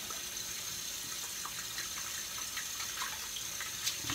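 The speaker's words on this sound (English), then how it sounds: "I'm gonna put in some clean water." Clean water pours steadily from a tap into a shaving bowl, a continuous splashing rush at close range with no one speaking.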